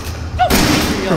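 Shotgun blast in the video game Resident Evil 7: a single loud, booming shot with a ringing tail, close and abrupt.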